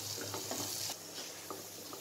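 Spices with Kashmiri red chilli and coriander powder sizzle in a hot oil tadka for dhaba-style dal fry made without onion or garlic, a steady close crackle with light stirring scrapes throughout.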